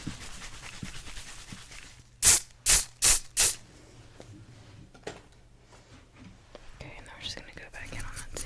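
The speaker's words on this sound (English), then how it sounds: "A little bit more hairspray." Four loud, hissing bursts of aerosol hairspray are aimed at hair, evenly spaced and close, standing out above soft whispering and quiet handling noises in a role-played 1980s hairstyling session.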